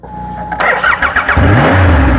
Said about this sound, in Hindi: अगर अभी आप एग्जॉस्ट पे रखोगे तो आपको एग्जॉस्ट साउंड भी दे दूंगा